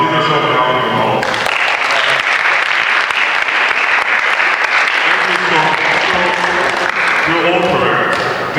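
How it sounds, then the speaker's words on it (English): Loud, sustained audience applause fills a presentation hall at a college financial literacy talk, dense clapping running steadily for several seconds with brief talk at the start and end. "give yourself a round of applause"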